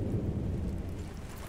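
A deep rumble of thunder in the shooter Battlefield: Bad Company 2, with low rolling noise and rain hiss that stays loud and steady before easing slightly.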